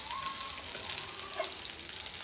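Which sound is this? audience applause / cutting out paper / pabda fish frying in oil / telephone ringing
pabda fish frying in oil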